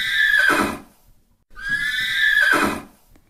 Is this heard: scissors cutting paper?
no